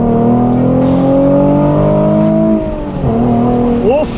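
A Nissan 370Z with a newly fitted exhaust and manual gearbox pulls hard from first gear with the windows open, a loud, close engine note climbing steadily, dropping briefly at a shift, then rising again.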